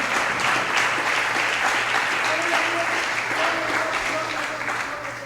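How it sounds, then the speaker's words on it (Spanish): A church congregation claps for the King during a sermon: dense, continuous applause fills the space evenly and stays steady throughout, easing slightly at the end, with faint voices beneath. "Dele palmas al Rey con todo su corazón"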